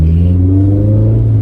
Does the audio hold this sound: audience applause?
no